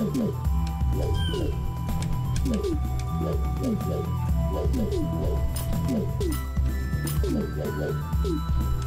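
A giant crow boss in Shipwreck gives a repeated, rhythmic cooing call in even pulses, loud and continuous over a droning game soundtrack.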